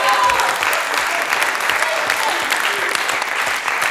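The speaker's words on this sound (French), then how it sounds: "On applaudit les 2 candidats, s'il vous plaît." A studio audience at a French television game show applauds two contestants, loud and sustained clapping from start to finish with no break.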